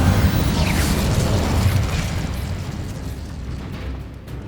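An Incendio fire spell cast in Hogwarts Legacy, a loud whooshing burst of flame with booming low rumble that roars steadily and slowly fades, no talk over it.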